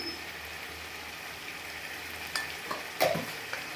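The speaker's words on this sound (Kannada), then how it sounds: "ಈಗೆಲ್ಲ ಮಿಕ್ಸ್ ಮಾಡ್ತಾಯಿದ್ದೀನಿ" Coriander powder stirred into biryani masala frying in a pan, a soft steady sizzle with a few scraping spoon strokes near the end.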